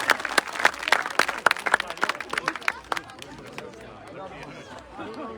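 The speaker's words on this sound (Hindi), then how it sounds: "जोरदार तालियों के साथ तालियों के साथ सभी अपने दोनों हाथ उठा करके तालियों के साथ स्वागत करें" Audience applause at a village political rally, a burst of loud, dense clapping from a crowd that swells and then thins out into scattered claps and background murmur.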